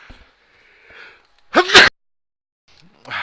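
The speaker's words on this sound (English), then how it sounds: "Sorry, I just sneezed." A person sneezes once, a sudden loud burst with a short breathy intake just before it, followed by faint breathing.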